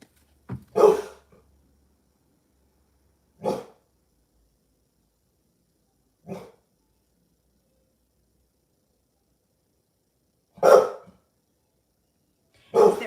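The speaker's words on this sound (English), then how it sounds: "Who are you barking at?" A dog barks five times in separate single woofs, spaced several seconds apart with silence between, fairly close and moderately loud.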